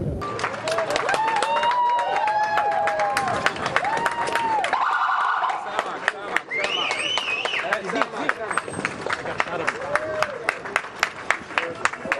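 An ambulance siren rises and falls as the ambulance passes a police barricade amid a crowd cheering and clapping, with voices shouting throughout and sharp claps near the end.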